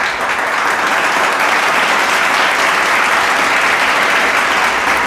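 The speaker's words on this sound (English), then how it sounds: "So I think for that we both deserve a very hearty applause," Hearty applause from a podcast audience, a loud, dense, unbroken round of clapping held at a steady level throughout, with no speech on top.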